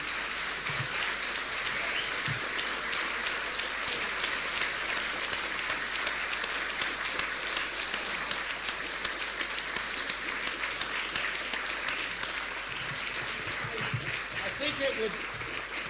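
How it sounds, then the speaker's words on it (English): A debate audience on Curacao gives sustained, dense applause that holds evenly for about sixteen seconds, sounding somewhat distant, with faint voices beneath. "Now you can stand up and applaud"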